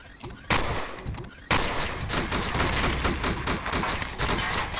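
Gunfire in the video game Empyrion Galactic Survival, a sentry shooting at the player inside a black pyramid: loud, close bursts of rapid shots that start abruptly and keep up as a dense, continuous barrage.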